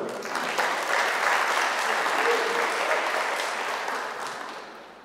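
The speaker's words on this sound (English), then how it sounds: "Give yourselves a round of applause for coming to a live event." Audience at a live classical music event applauds warmly, a dense even clapping that holds for several seconds and then begins to taper off.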